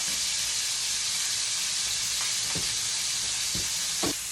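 Pork pieces browning in a hot skillet, a steady bright sizzle with no break and a few soft knocks of a utensil near the end.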